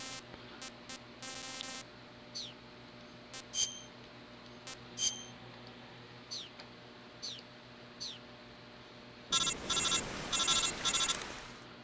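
In Metal Gear Solid 3, a codec phone call rings as a chirping electronic beep pattern, with scattered short beeps first and then a louder burst of rapid trilling rings near the end.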